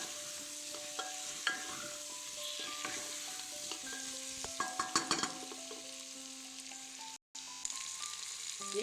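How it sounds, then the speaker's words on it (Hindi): Masala frying and being stirred in a pan on low flame, a soft steady sizzle broken by clinks and scrapes of a spoon, quiet and close with a brief gap near the end. "आँच के कम कऽ कऽ 1 मिनट एकरा भूजे के छै, जैसे मसाला जे छै से कनी भुजा जाए"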